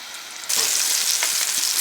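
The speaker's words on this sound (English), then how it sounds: "there is about a tablespoon of vegetable oil in there, and we are going to just let them sear for about 2 minutes per side" Meatballs sear in about a tablespoon of vegetable oil, a loud close sizzle that jumps up suddenly and then holds as a steady crackling hiss.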